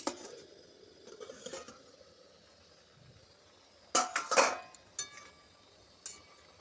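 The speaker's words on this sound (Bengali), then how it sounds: "এবার আমি ঢাকাটা খুলে দেখব সিদ্ধ হয়েছে কিনা" A metal plate used as a lid is lifted off a pot of cooking pumpkin greens with a quick cluster of bright clinks and rattles. A softer clink follows after a quiet stretch of faint kitchen noise.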